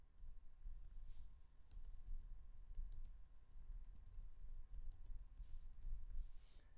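Computer keyboard keys pressed in a few separate quick clicks, fairly quiet and close, spaced irregularly over a low steady background hum while entering Markdown in a Jupyter Notebook.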